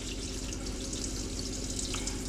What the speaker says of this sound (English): piping hot water, steaming away, ice is all melted